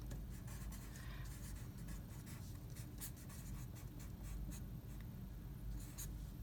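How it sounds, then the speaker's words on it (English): A pen or marker writes on paper close by as colour-mixing notes on the primary triad are jotted down, giving a continuous faint scratching with small taps and strokes. "So I'm going to write it over here so that you can see that."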